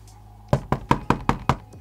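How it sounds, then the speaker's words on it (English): A door-knock sound effect plays as a Twitch channel-points alert: seven crisp, evenly spaced knocks in quick succession, loud and close, with no talking. "Door knock."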